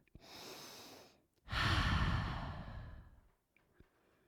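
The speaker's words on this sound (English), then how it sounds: "Breathe." Breathing during a side plank exercise, one soft inhale followed by a longer, louder exhale through the nose, then quiet with a couple of faint clicks.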